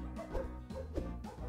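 A dog in the Majotori video game soundtrack barks about three times in short, evenly spaced yips, clear and close, set into a steady musical backing.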